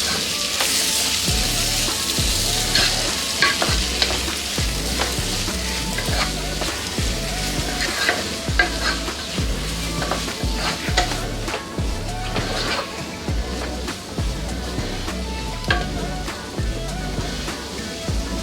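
Capsicum palya being stirred in a hot pan, a steady sizzle of frying vegetables with repeated scraping strokes of a spoon at a regular rhythm, close and fairly loud throughout, with no talk.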